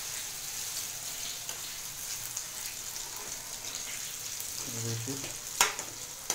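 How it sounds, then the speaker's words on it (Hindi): Potato pieces and fennel seeds fry in hot oil for a raw mango launji. A steady, close sizzle runs throughout, a stirring clatter comes near the end, and a voice speaks briefly. "इसको भूनेंगे आलू को।"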